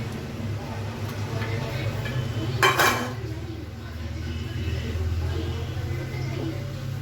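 Metal lid set down on a pot of cooking bottle gourd, one short close clatter against the rim over a low steady kitchen hum, then quiet simmering background.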